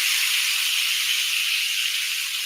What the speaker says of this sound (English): that is a fantastic sizzle and sear.